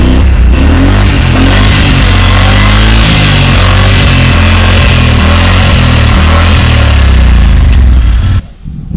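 A 2020 Yamaha Wolverine X2 XTR side-by-side engine runs with its factory muffler, a loud, steady close-up drone with a slight rise and fall, cutting off abruptly near the end.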